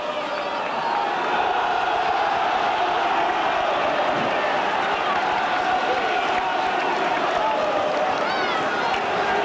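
Stadium crowd at the Boulevard, Hull, before a second-round Silk Cup Challenge Cup rugby league tie against St Helens: a broad, continuous roar and murmur of spectators, with a commentator talking over it throughout.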